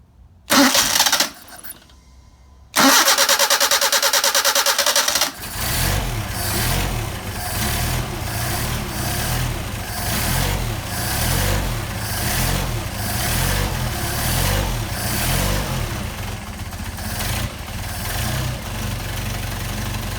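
A Mercedes 190SL engine fitted with Solex 44PHH carburetors cranks over in short bursts, then catches and settles into a loud, steady, rhythmically pulsing idle with the choke on, close up and with no talk.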